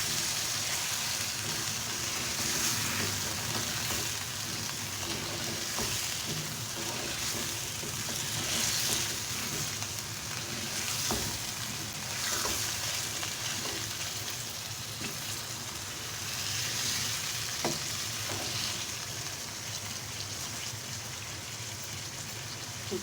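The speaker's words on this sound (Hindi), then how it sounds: "चिकन को हमने लहसुन अदरक के साथ अच्छे से भून लिया है।" Chicken with garlic ginger paste sizzling steadily in a pan for a long stretch, a soft even crackle with occasional faint clicks of stirring, no voices.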